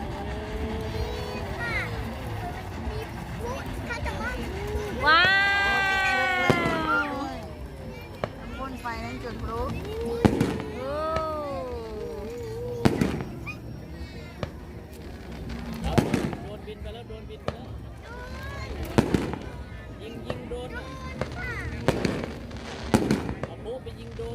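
Fireworks and firecrackers pop and bang repeatedly at an illuminated boat procession festival, with whistling rising streaks early on, while people chatter nearby throughout.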